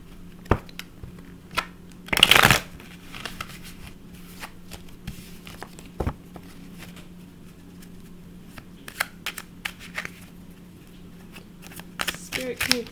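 Tarot cards are shuffled in a few short bursts: a dense riffle of flicking card edges, then scattered light taps and handling noises, close and quiet with long gaps between.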